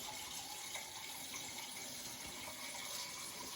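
Steady water stream running into a container, about ten ounces being filled for an alcohol camp stove outdoors; continuous close gushing with no talk.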